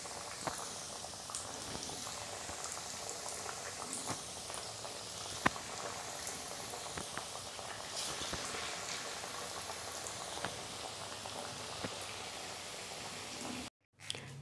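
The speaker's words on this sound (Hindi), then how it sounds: "और इसको तलने के लिए डाल देंगे।" Bread snack frying in hot oil, a steady dense sizzle and bubbling that runs evenly throughout with a few sharp pops, ending in a brief dropout.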